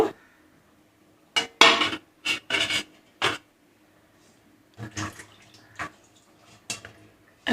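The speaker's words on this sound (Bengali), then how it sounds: "আদা রসুন নিয়ে নিলাম, শিলনোড়া বেটে নেব।" Ginger and garlic ground by hand on a shil-nora grinding stone, giving short rasping scrapes in quick bursts, several close together, then a pause and a sparser run of strokes, close and fairly loud.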